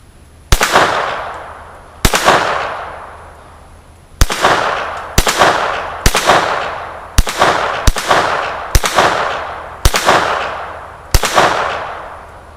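Winchester .22 LR rounds fire from a Ruger Mark III handgun outdoors, about ten loud, sharp cracks at uneven one-to-two-second intervals, each trailing off in a brief ringing echo.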